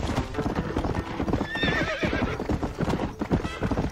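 A horse in the video game Red Dead Redemption trots with rapid, close clip-clop hoofbeats and gives a short whinny partway through.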